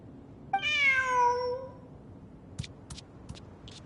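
A cat in the video game Genshin Impact gives one long, clear, rising-then-falling meow close by, followed by a few short faint clicks and taps.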